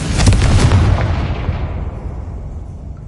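A Confringo fire spell bursts in the Hogwarts Legacy video game, a single loud, deep explosion with a crackling rumble that fades away over about three seconds.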